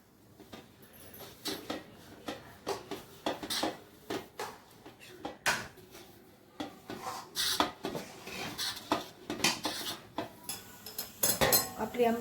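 Thickened ambil scraped from a pan into a greased plate, giving repeated metallic scrapes and clinks of a spoon on steel at an irregular rhythm, close and fairly loud.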